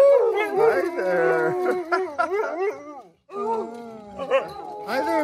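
Sled dogs howl together in a loud, close chorus of rising and falling wails with yips mixed in, breaking briefly before the howling resumes.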